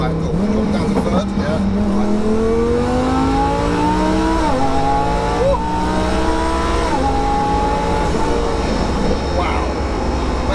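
A twin-turbo 1200 bhp Lamborghini Huracan in Corsa mode with traction off roars under hard acceleration, its engine note climbing through the gears with brief dips at shifts, while people talk in the cabin.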